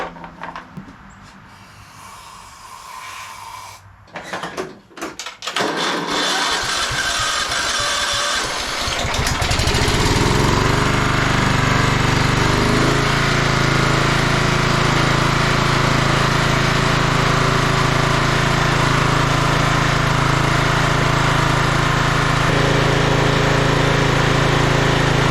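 A Simplicity Regent garden tractor engine, given a shot of starting fluid, sputters through a few quiet attempts, then catches after about six seconds and settles into a loud, steady, close-up running drone.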